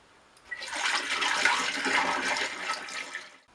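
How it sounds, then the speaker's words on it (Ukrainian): Pressed apple mash liquid for homemade calvados pours into a plastic bottle, a close, steady gushing splash that swells for about three seconds and then stops. "а відсіжену брагу заливаю у пластиковий бутиль для подальшого освітлення"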